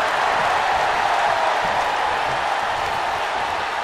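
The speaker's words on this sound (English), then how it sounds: "Listen to this crowd." A wrestling arena crowd roars and cheers continuously at a WWE match, a loud, dense, steady wall of crowd noise with no pauses.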